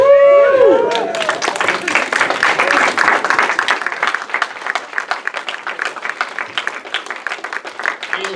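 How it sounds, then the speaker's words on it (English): A game-show audience breaks into loud, sustained applause with scattered cheers, hands clapping densely and steadily after a brief opening tone. "So let's all stand and give a cheer for Tim McVeigh."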